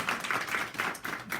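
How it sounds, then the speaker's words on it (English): A small group claps for staff at a gathering, with a sparse, uneven rhythm of clustered hand claps in quick pulses that sounds near and moderately loud. "Everybody give them a round of applause."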